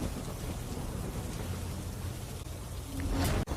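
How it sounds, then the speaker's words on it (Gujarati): Rain falls steadily across a Gujarat district under a cyclonic circulation, a continuous close hiss with a low rumble near the end. "જિલ્લાના તમામ તાલુકામાં વરસાદ વરસી રહ્યો છે"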